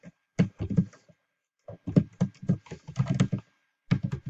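Fingers tap a computer keyboard in quick bursts of close, crisp keystrokes, separated by short pauses, with no voices.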